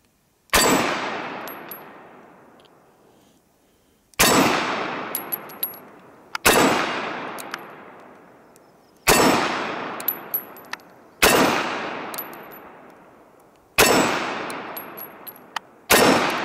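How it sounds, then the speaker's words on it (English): Colt 1911 .45 ACP Series 80 pistol fired outdoors, six loud sharp single shots spaced a few seconds apart, each followed by a long decaying echo and faint metallic clinks. "So we're going to shoot it, and hopefully I'll shoot it well for him."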